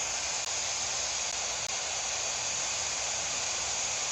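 A ghost radio in the video game Edgelord Haunted gives off a steady hiss of white-noise static, constant and fairly faint, broken by two tiny clicks.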